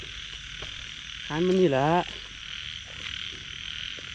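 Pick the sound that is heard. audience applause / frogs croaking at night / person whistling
frogs croaking at night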